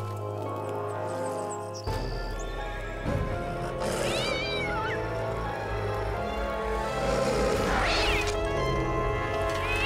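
A cat meows a few times over a steady background hiss, with short rising cries spaced apart and one louder call near the end.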